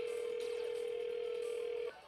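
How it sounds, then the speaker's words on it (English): A telephone dial tone hums steadily and clearly, alone for nearly two seconds before a prank call is placed, then cuts off abruptly at the end. "So Joe's gonna start to call to his mom."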